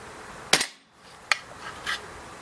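A WE AWSS SCAR-L 6mm airsoft rifle running on CO2 fires three sharp, close cracks about a second apart during a field test, with the last shot softer and more drawn out.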